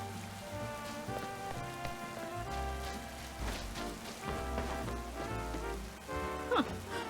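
Rain falls in the Pokemon Legends ZA video game, a steady wash of drops over ongoing game music and effects, with no talk.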